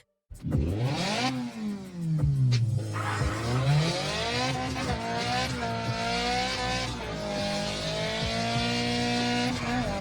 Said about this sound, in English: CarX Drift Racing 3 is a solid drifting game that offers a lot of content and replayability.